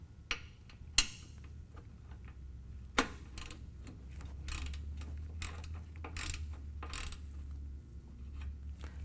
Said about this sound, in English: Take your ratchet and your 5/8 inch socket and remove your drain plug